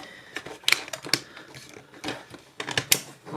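Plastic parts of a Hello Carbot Mimoth transforming toy robot snap into place in a series of sharp clicks and rattles, close and fairly loud, spaced irregularly in small bursts.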